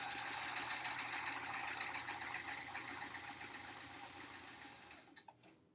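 A sewing machine stitches hourglass quilt blocks in a steady, fast whir that runs continuously, then slows and stops near the end with a few small clicks, fairly quiet and close.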